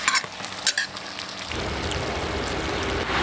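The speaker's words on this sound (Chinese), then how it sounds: "把这西红柿呢炒出汁来" Tomatoes stir-fried with beef in a pot, opening with a few clattering stirs before a loud, steady sizzle takes over, close and continuous.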